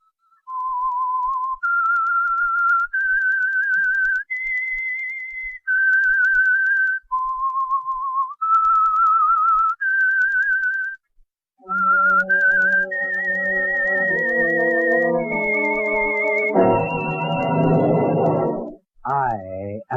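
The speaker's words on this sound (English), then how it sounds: "That whistle is your signal for the Signal Oil program" Whistled theme melody of The Whistler, an old radio drama, with a lone clear whistle stepping through a slow rising and falling tune, repeated and then joined by orchestral backing that swells to a close.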